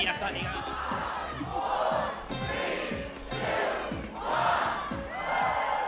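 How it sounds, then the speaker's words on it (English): A large live crowd in a Rotterdam esports arena, at a streamed Halo MCC tournament, chants a countdown in loud, rhythmic unison, with several rising shouts over a steady roar of crowd noise. "I've never heard a crowd count down from 10 better than you guys"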